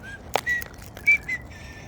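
A person whistles to wild birds in short, uneven notes, a handful of thin tones and brief chirpy phrases with gaps between them, close and fairly clear.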